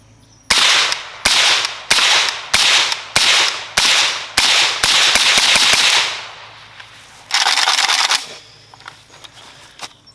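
A rapid series of loud, sharp AK rifle shots with a muffled, suppressed crack, fired in quick succession, then a longer burst and fading echo.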